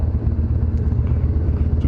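An old motorcycle with a high-compression engine holds a steady, close, throbbing drone while riding along at low speed.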